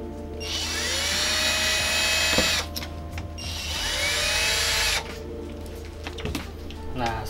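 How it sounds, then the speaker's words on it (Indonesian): A small power drill whines at high pitch, boring through the center of a plastic bottle cap in two long sustained bursts, each ending abruptly, with a quieter gap between them. "Nah, yang pertama kita lubangi bagian tengah botolnya menggunakan bor."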